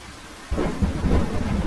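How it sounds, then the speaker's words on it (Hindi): Heavy rain pours steadily in an animated Hindi cartoon while a low rumble of thunder rolls in and swells, loud and close, with no voices. "बारिश बहुत तेज थी।"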